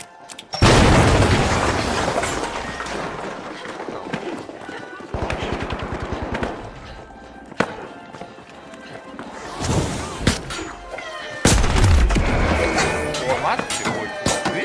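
A loud blast detonates in The Finals, a competitive shooter match, amid heavy booming impacts, scattered gunfire-like cracks and a later second burst, with busy game noise filling the whole stretch.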